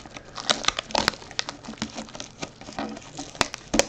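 Plastic packaging on a hockey card tin being cut and pulled open: irregular close-up crinkling and crackling with sharp snaps and small tearing sounds scattered through a few seconds.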